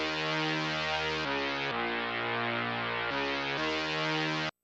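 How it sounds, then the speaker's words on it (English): A tuned, deliberately degraded chord sample with a low-cut filter applied, sustained harmonic chords shifting in a few blocks before cutting off abruptly near the end, with no voices. "which are chords that are from a sample tuned and kind of messed up"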